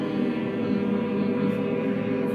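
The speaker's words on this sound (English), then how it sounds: "we're going to take a breath in, hold, and then hum" A group hums together in a low, sustained, even drone that holds steady without breaks for the whole stretch, close and fairly full.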